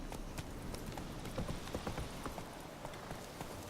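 Roach the horse's hooves clip-clop in The Witcher 3 at a steady, quick walking rhythm, fairly faint and unbroken, with no talking.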